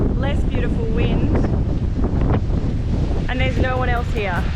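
Strong wind buffets the microphone at Surveyor's Pool, a remote waterfall spot in Australia, roaring steadily throughout while a person talks over it.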